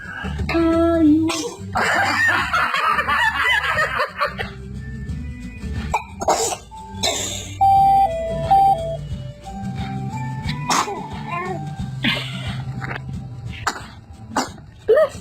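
Babies sneezing in a home setting, several short sharp bursts spread across the stretch amid cooing, squeals and adult voices chatting and reacting.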